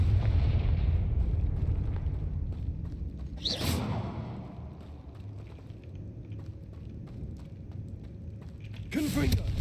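Two sharp fiery blasts from the Confringo explosion spell in Hogwarts Legacy, one near the middle and one at the end, over a low rumbling background of combat noise, with no voices.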